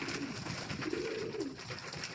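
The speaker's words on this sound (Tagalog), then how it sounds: "At nagkukuhog ang mga ibon." Racing pigeons at their loft coo softly, with a low, rolling call swelling near the middle of a short, quiet stretch of outdoor ambience.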